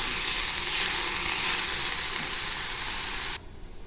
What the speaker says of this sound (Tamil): இது மாதிரி எண்ணெயிலேயே வெங்காயம் நல்லா வதங்கி